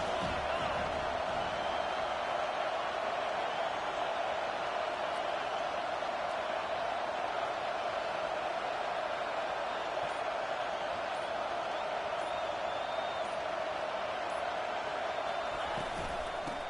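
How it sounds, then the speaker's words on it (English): A large football stadium crowd roars steadily during a Penn State game, a distant, continuous wash of cheering that holds evenly throughout. "this crowd is turning it up a notch"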